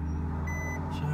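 Reversing beeps from a Nissan e-NV200 electric van backing up in a tight spot, a faint tonal bleep sitting over steady low road hum for about a second.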